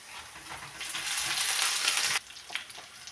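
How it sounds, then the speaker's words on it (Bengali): Pieces of fried rui fish are added to onions frying in a pan for a fish dopiaza, giving a steady hiss of sizzling oil that swells through the middle and then drops off sharply, followed by a few faint stirring clicks. "এখন আমি এর মধ্যে ভাজা মাছগুলো দিয়ে দিব।"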